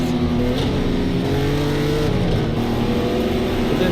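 Engine of a GT3 race car in a racing video game, loud and steady, revving and dipping briefly as it shifts, heard alone and up close with no talk.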